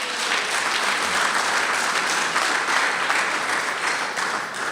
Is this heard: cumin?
no